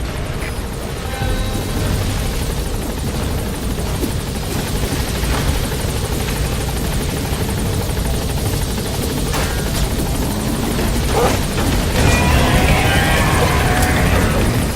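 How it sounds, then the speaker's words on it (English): A helicopter's rotor thumps and roars loudly and steadily as it touches down in the video game Metal Gear Solid V, close by, with the engine whine holding throughout and a faint swell near the end. "All right, the chopper's touching down."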